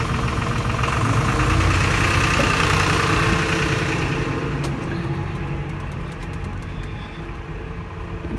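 The engine of an offshore powerboat runs steadily in gear with prop wash, a loud continuous droning rumble that eases slightly toward the end, with a few faint clicks.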